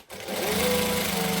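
A sewing machine stitches a hoodie seam, its needle running in a fast, steady whir that starts abruptly and holds close and even for just over a second.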